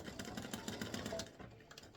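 A sewing machine fitted with a fine 65/9 needle stitches lines into cardstock for an embroidered Mother's Day greeting card, with a quick, even run of close mechanical stitch beats lasting about two seconds.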